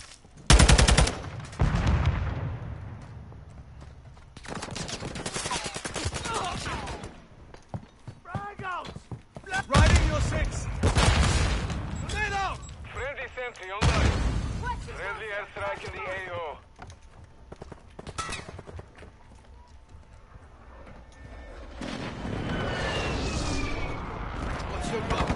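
Video game gunfire in bursts of rapid shots that start and stop over and over, fairly loud and close, with voices talking through the action.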